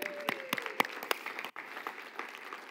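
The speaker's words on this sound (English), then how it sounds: "Can we clap for Lindsay today?" Brief burst of scattered hand clapping from a small church congregation at a Christmas service, sharp individual claps rather than a full roar, fading after a couple of seconds.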